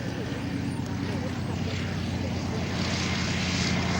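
A 1,000-horsepower biplane with a 27-litre nine-cylinder radial engine flies at the 1998 St Mawgan air show, its propeller drone a steady, loud, unbroken roar throughout.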